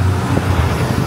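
A city bus idles and moves in street traffic at Xindian Station in Taipei. The engine and road noise form a steady, close, continuous rumble, with no voices.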